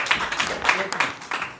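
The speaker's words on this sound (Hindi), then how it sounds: "तालियां बजा दीजिए।" An audience claps together at a trust's inauguration ceremony, producing a dense, steady patter of hand claps close by with a few sharper individual claps standing out.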